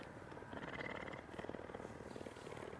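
A cat purrs deeply and steadily at close range, a continuous low rumbling vibration with no voices over it.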